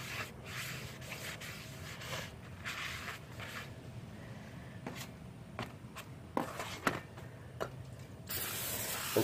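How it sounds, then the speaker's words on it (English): Brake cleaner sprays in repeated short hissing bursts onto the rear brake rotor of a 2003 Dodge Ram 1500, close up, separated by quiet gaps and some light handling noises. "I'm using brake clean."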